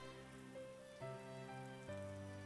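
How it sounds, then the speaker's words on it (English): Heavy rain in a visual novel scene: a steady, soft wash of rainfall runs beneath sustained musical tones, with no voices. "Can you see how heavy the rain is?"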